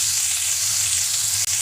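Whole pieces of paneer fry in a hot pan with a loud, steady hiss of sizzling oil that continues without a break, close up and with no talk.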